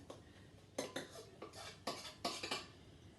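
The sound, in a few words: spatula scraping tart filling from a bowl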